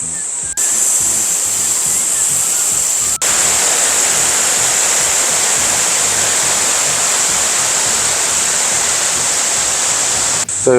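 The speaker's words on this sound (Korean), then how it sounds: "이 좌측편에 그 인공 폭포가 있습니다. 물 틀어놨는데" Steady, loud rushing of water falling continuously, a dense broadband roar with no pauses, like an artificial waterfall heard up close.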